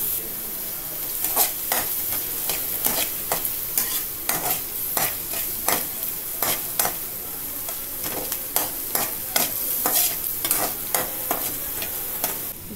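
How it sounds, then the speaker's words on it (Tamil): Chopped onions sauté in a pan for egg masala bonda, with a continuous sizzle and frequent sharp scraping stirs of a spatula at an irregular rhythm, close and fairly loud, no voices. "ஆனியன்ஸை நல்லா வதக்கி விட்டுக்கோங்க."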